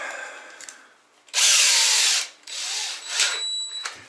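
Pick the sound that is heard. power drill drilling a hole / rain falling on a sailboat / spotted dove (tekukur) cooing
power drill drilling a hole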